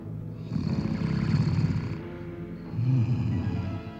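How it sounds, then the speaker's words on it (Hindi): A sleeping man in a Hindi mythological film snores in two slow, rasping cycles. Each rumbling breath swells and fades, close and with nothing else around it. "ऐसे खर्राटे भर रहे हो जैसे सचमुच बड़ी मुद्दत से सोए हुए हो"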